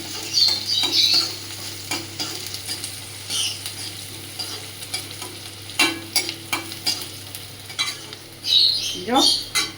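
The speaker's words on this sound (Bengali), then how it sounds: "লঙ্কা কাঁচা লঙ্কা রসুন আর পেঁয়াজটা দিয়ে দিলাম এগুলো আমি হালকা লাল করে নিলাম" Red chilli, green chilli, garlic and onion fry in hot oil in a pan, giving a close, steady sizzle with repeated scraping stirs and occasional clinks of a utensil against the metal.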